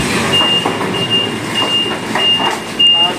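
A moving truck reverses with its warning alarm sounding, a steady high beep repeating in regular pulses over a low engine rumble, close by, with faint voices in the background.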